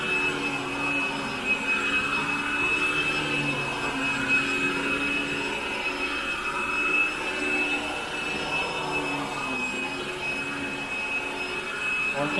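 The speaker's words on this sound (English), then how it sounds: "Well, I can't vacuum all day" A Hoover AirLift Light vacuum cleaner running on carpet, a steady whining motor drone with airy suction noise, loud and constant throughout with no talk.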